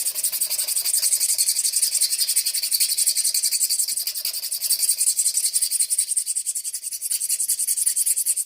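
Close, rhythmic rasping as the coating on airsoft piston teeth is roughened, quick even back-and-forth scratching strokes continuing steadily without pause, with no talking.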